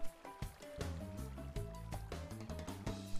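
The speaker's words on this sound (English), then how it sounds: "just flick on the water" Water gushes from a switched-on water source in the video game Minecraft, a soft splashing flow with a few sharp pops over a faint background tone.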